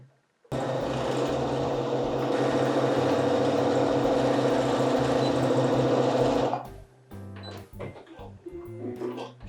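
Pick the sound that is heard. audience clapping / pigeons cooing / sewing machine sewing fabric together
sewing machine sewing fabric together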